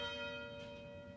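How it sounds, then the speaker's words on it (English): University tower chimes ringing, a sustained bell tone with rich ringing overtones, steady and moderately distant, alone without any voices. "The University Tower chimes ring in another session of Ask the Professor"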